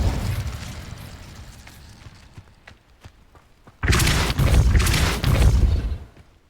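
A Repulsor spell blast in the Hogwarts Legacy video game, heard as a sudden loud, booming whoosh that bursts in after quieter thumps and lingers with rumbling for a couple of seconds before fading.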